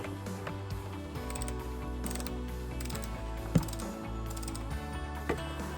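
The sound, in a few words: torque wrench tightening KTM pannier holder bolts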